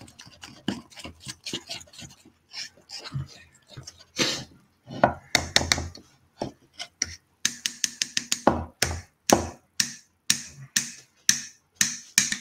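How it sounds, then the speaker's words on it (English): A whisk beats a mixture in a bowl for paella, sharp rhythmic clicks against the side that start loose and settle into a fast, regular beat. "Probably might be better off stirring this with a fork, but if you can get away with a whisk, you get a bit more air in there."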